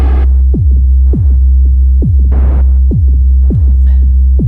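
Loud Lyra-8 synthesizer output with a deep, steady drone and repeating pulsing throbs that fall in pitch, plus a brief burst of hiss midway.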